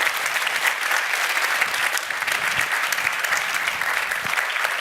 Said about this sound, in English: applause for Luca Guadagnino.